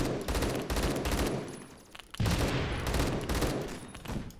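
An AK12 fires in burst mode in the Roblox shooter Phantom Forces, loud and close. Rapid volleys repeat with a brief lull in the middle, then the shots resume.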